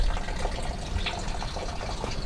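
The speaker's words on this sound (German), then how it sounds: "Hier läuft so schön das Wasser runter in den Felsen." Water runs down over the rocks of an abandoned stone quarry, making a steady, loud rushing and splashing that fills the whole stretch with no pauses.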